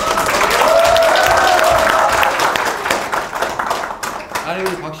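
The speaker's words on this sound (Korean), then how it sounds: "우리 박 시장님 응원하러 와서 저한테 이렇게 박수 치면 안 된다니까요" Audience clapping and applauding at a town hall meeting, a dense steady burst of claps that fills the opening seconds and then thins out, with a voice speaking over the tail end.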